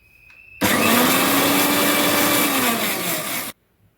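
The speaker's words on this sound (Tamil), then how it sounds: "தேங்காய் சோம்பு வெங்காயம் சீரகம் ரெண்டு போட்டு அரைச்சாச்சு" A mixer grinder whirs loudly at a steady high pitch for about three seconds while grinding coconut, fennel, onion and cumin, then cuts off abruptly into near silence.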